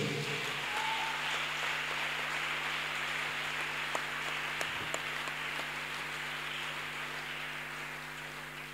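A church congregation applauding, a steady dense wash of clapping held at an even level for several seconds and slowly tapering toward the end, over a faint hum.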